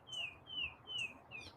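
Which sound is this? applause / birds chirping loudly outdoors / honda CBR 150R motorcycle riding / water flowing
birds chirping loudly outdoors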